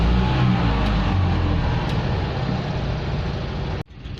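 An Invacar engine struggling to reach temperature gives a steady, loud, low droning rumble that runs continuously, then cuts abruptly near the end before resuming more quietly.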